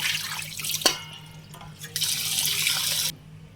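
Raw chicken for chicken pulusu is washed in water in a bowl: running, splashing water with a sharp knock, a brief lull, then a steady gush that cuts off abruptly.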